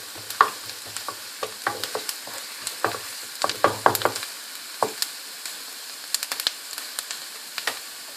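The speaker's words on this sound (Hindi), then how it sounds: "अब मैं इसके अंदर ये लहसुन डाल दूंगी।" Scattered clicks and scrapes of a utensil in a pan over a light sizzle of frying garlic, with irregular taps throughout and no talking.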